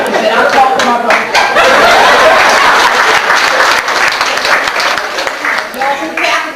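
Audience applause at a tribute gathering, steady dense clapping throughout with some chuckles and voices mixed in.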